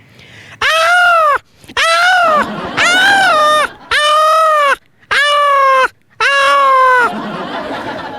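A man mimics a peacock's call with his voice, six loud, close, drawn-out wailing cries of about a second each, separated by brief silences, with a strained, anguished tone.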